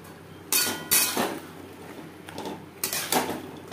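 Eggplant pieces going into a pan of hilsa fish curry spiced with turmeric, mustard and poppy seed, heard as a few sharp clattering knocks and scrapes of utensil against the pan with quiet gaps between.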